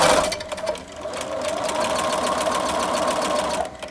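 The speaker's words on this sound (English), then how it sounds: "And then I'm just going to start sewing with my 5/8 inch" A sewing machine stitching a seam with a 5/8 inch allowance on a child's apron, a fast, even mechanical clatter that starts, runs steadily near the mic, then stops.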